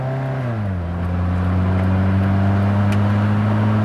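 A Mitsubishi Lancer CK4 on a test drive in second gear gives a loud, close engine drone. The pitch dips briefly near the start, then holds a steady, strong tone as the car pulls.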